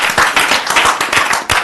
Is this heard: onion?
no